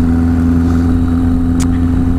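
A motor scooter carrying a rider and passenger hums along with a steady, loud mid-pitched engine drone and constant road and wind rumble, close up, no talking.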